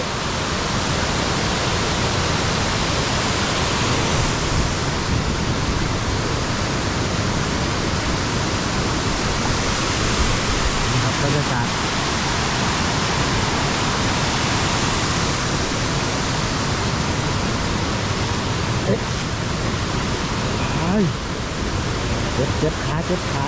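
Tad Khu waterfall near Pakxong in Champasak, Laos roars as a loud, dense, continuous rush of falling water, steady and unbroken throughout with no clear voices above it.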